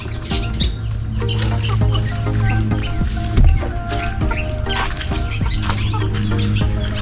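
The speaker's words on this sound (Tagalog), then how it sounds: "dito po may naglilimlim na manok" A brooding hen on a small farm clucks softly amid other fowl and chirping birds, with low continuous background hum and a brief louder thump midway.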